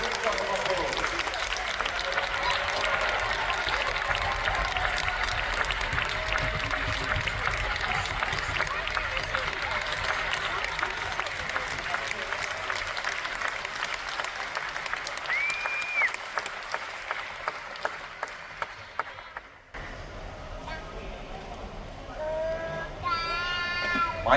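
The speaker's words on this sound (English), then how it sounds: "Let's have a quick round of applause." An audience at an award presentation for a tabletop game at a gaming convention gives loud, sustained applause for about twenty seconds, with a few cheers and voices mixed in, before it fades into talk.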